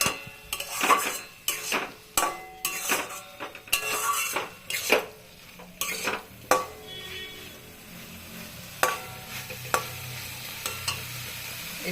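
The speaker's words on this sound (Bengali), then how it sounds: "মশলাটাকে এরকম গ্যাসের আঁচটাকে কমিয়ে নিয়ে ভালো করে কষাবো।" A spoon stirs and fries a spice paste in a pan over a low gas flame, making repeated close scraping strokes against the metal over a soft sizzle, with no talking.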